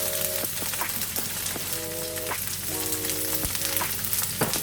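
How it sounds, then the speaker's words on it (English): Dense, continuous sizzling and popping of onions frying in a pan, up close, with occasional metallic tones and utensil scrapes. "Start making the sauce by frying the onions."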